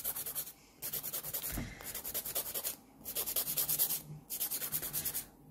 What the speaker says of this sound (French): me permet en fait de pouvoir limer le bout et que mon ongle ne se tord pas dans tous les sens